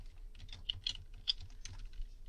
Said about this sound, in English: So I'd type that in.